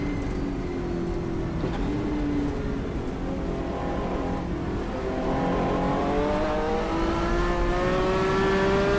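Porsche 906 race car engine at Daytona in GTR2, revving steadily with rising and falling pitch as gears shift, loud and close throughout without talk.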